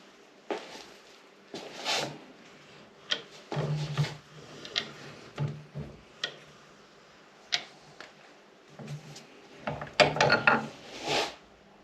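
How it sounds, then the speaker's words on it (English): A turned steel widget is pressed as a press fit between thin-walled tubes of a beach buggy chassis during reassembly, giving scattered dry clicks, taps and light metallic knocks at uneven intervals, close and fairly quiet. "So we're going to press that in between and then weld it together."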